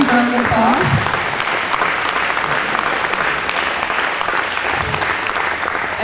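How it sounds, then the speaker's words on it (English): A room of guests breaks into steady applause for the handmade centerpieces and cupcakes at a YMCA event, dense clapping filling the space with a few voices mixed in near the start. "So huge round of applause."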